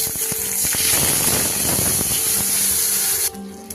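Water poured into a pan of tempered cumin and green chillies for a potato, aubergine and raw hilsa curry gives a steady, loud rushing splash for over three seconds, then stops abruptly.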